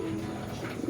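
Racing pigeons in a loft cooing softly and continuously, a low steady murmur of several birds close by with no talk over it.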